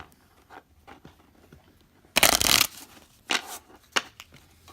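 Quiet handling of cardstock Lenormand cards with soft taps and rubbing, then a loud rapid riffle of shuffling, followed by lighter shuffling sounds.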